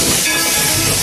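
A toy train lets out a loud, steady steam hiss, a brief continuous blast heard close up with no voices.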